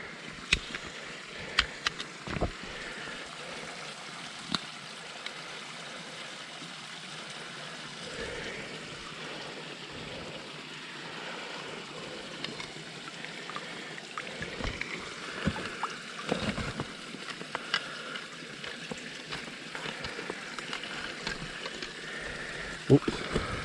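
Soft trickling and sloshing of water pouring into a hydration bladder from a filtration system during motorcycle camping, continuous and fairly quiet with occasional handling bumps and clicks.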